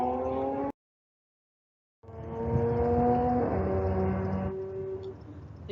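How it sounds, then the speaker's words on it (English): A motor vehicle passes by outdoors, a loud droning engine with a steady tone that rises after a brief silence and then slowly fades. "There's a motorcycle going by, so it's kind of loud."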